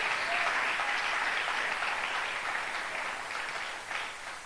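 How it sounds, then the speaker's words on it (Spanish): Steady congregation applause at a church service, a dense wash of clapping that holds for several seconds and then slowly eases off. "Denle un aplauso fuerte al Señor."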